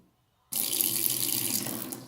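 A household tap in Nepal runs on tanker-supplied water: after half a second of near silence, a loud, close, steady rush of running water starts and continues without pause to the end.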